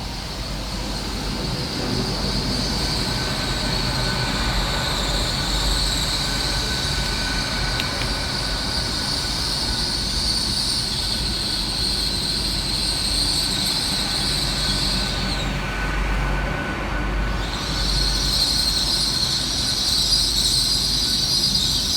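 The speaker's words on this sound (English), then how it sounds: "Next to arrive into the station is 800-112, working the slightly delayed 12:03 LNER Azuma service from Leeds through to Aberdeen." An LNER Azuma class 800 train rolls into Arbroath station on a Leeds to Aberdeen service, a steady loud rumble of wheels on rails with sustained high-pitched brake and wheel squeal that briefly breaks off and returns.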